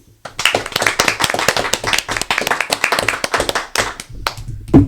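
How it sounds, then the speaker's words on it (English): A small group claps in a steady, close run of sharp hand claps to close out a podcast recording, continuing for several seconds before a brief voice at the end. "And we always close it out with clapping."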